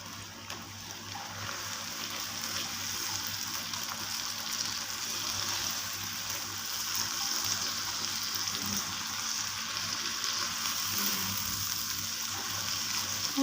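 Bhindi masala with tomato puree frying in a pan, a continuous soft sizzle and crackle that holds steady throughout, with no voices.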